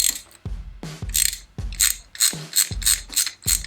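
A socket ratchet removes a spark plug from the rear cylinder of a Harley-Davidson Sportster, giving close, loud bursts of rapid clicking in about seven strokes with short pauses between them.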